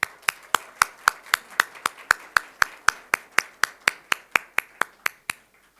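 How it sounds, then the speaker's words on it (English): Steady, evenly paced clapping at an opening-ceremony welcome for a chairwoman at a tech expo event, about twenty crisp, sharp claps in a regular rhythm, fairly close and with no talking. "please put your hand together to give a warm round of applause to Ms. Vibeke Lyssand Leirvag"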